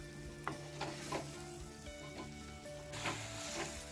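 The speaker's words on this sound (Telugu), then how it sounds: "నేను ఇక్కడ శుభ్రం చేసి వేసుకొని బాగా ఫ్రై చేసుకోవాలి." Half a kilogram of chicken frying in a pan for gongura chicken, a steady close sizzle with a few louder spatters and stirring scrapes throughout, no talk.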